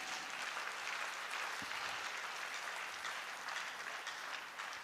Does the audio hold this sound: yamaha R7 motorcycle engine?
no